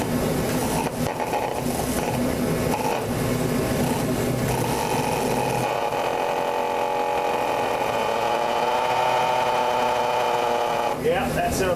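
A micro mini tractor-pulling engine is spun over to clear alcohol, giving a continuous buzzing, whirring drone with a steady pitch that shifts partway through and stops abruptly near the end.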